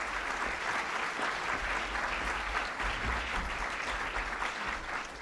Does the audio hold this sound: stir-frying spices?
no